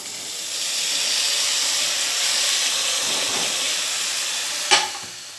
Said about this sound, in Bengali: আমি এবার এর মধ্যে বাঁধাকপিটাকে অ্যাড করে দেবো।